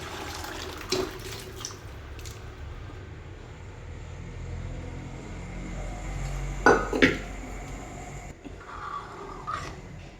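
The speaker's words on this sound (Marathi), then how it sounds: "आता यात आपले छोले आपण जे उकडून ठेवले ते टाकून घ्यायचे आहे." Boiled chickpeas tipped into a pan of chole masala gravy, giving a few soft clinks and scrapes of a spoon against the pan, with two sharper knocks in the middle, over a steady low kitchen hum.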